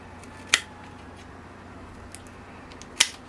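Bonsai scissors cutting a root of a grey bark elm during repotting: two crisp, close snips about two and a half seconds apart, with a faint small click between them in a quiet room.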